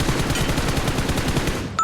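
Gunfire from the BGMI battle royale video game, a rapid automatic burst of shots that is loud and continuous for nearly two seconds.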